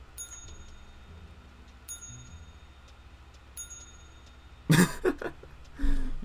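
Hotel front-desk service bell in the horror game Dark Deception rings three times, with bright, evenly spaced dings over a quiet game backdrop, followed by a few louder thumps near the end.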